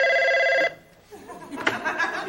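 A telephone bell rings loudly in a steady electronic trill for under a second, then cuts off, followed by a voice in French and some brief laughter.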